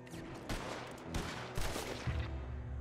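Bursts of rapid video game gunfire from Red Dead Redemption 2 crackle in quick succession, dense and fairly loud, with several separate volleys over a low hum.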